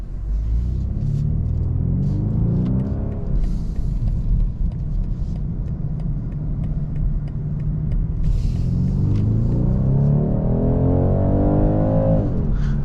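A 2023 BMW 230i's engine, artificially enhanced through the cabin, drones and rumbles from inside while driving, rising in pitch twice as it accelerates through the gears.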